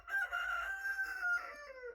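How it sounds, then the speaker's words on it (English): Backyard chickens let outside for the first time this year, a single close drawn-out crowing-like call lasting about two seconds, loud and alone with no talking. "That's the chickens."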